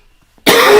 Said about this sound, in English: Yeah, I have a bad cough.